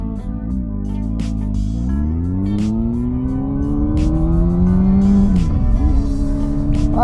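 A motorcycle sets off for a ride, its engine revving up through rising and falling gear sweeps, loud and close, climbing in pitch as it accelerates away.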